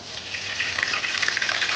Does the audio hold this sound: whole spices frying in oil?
yes